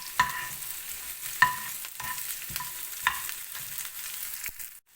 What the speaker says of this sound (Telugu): ఇవన్నీ ఫ్రై అయిపోయాయి కదా, ఇప్పుడు స్టవ్ ఆఫ్ చేసేస్తున్నాను.